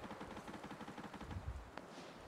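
Faint, rapid automatic gunfire in a Fortnite squads match, a steady stream of quick shots that sounds somewhat distant, with a single sharper crack near the end.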